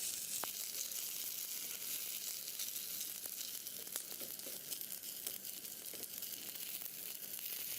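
A chicken burger patty fries in hot oil in a pan, giving a steady, soft sizzling hiss with faint pops and crackles throughout, heard alone.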